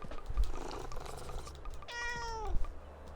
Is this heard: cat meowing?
yes